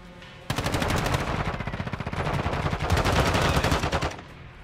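Rapid automatic gunfire from a decoy grenade in Call of Duty: Modern Warfare II, a dense sustained burst of shots lasting several seconds, loud and close, with no talk over it.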